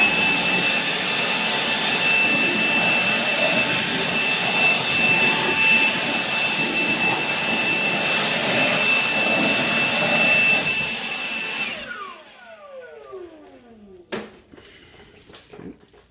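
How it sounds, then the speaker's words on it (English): An air blower roars steadily while clearing wood shavings during a 2018+ Honda Accord OEM spoiler install, then cuts off abruptly and winds down, leaving a faint fading whine. "Since I have a blower, just to make sure any shavings are out of there, I'm going to blow this out a little bit."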